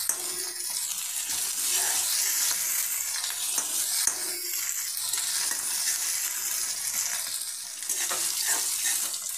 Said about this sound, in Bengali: আদা রসুন থেতো করে নিয়েছি, আদা রসুনটা দিয়ে দিলাম। এবার আমি একটু লাল করে নেবো এগুলো।